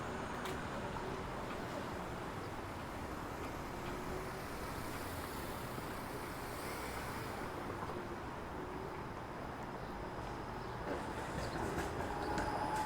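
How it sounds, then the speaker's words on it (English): The 505 Dundas streetcar rumbles along Dundas Street East in downtown Toronto on a morning street, a steady mid-distance rolling noise blended with city traffic for the whole stretch. "There's the 505 Dundas streetcar at the start of its journey."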